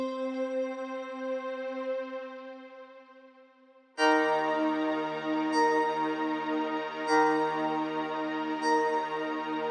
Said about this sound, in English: Next, I made a pad sound in Nexus.